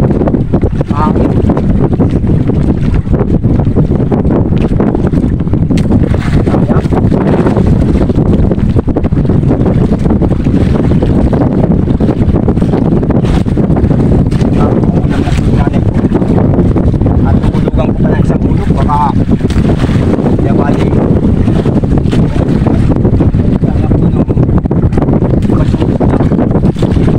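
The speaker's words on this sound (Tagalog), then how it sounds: "Mahangin." Strong wind buffets the microphone in a constant roar on a boat at sea during handline fishing for grouper, with water and the boat's rumble beneath and some faint voices mixed in.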